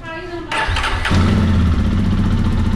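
A motorcycle engine cranks and catches about a second in, then settles into a steady, throaty idle close by.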